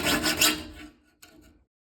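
A steel file rasping across the teeth of a crosscut saw during sharpening, with several quick strokes up close, then a short pause and a softer final pass.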